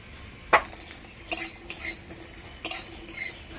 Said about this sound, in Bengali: বড়িগুলো ভাজা হয়ে গেছে